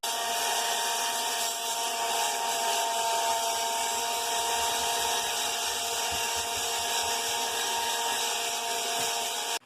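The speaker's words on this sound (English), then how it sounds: "I'm trying to warm it up right now with a hairdryer" Constant loud whirring hum of a hair dryer blowing, close and unbroken throughout, with no voices.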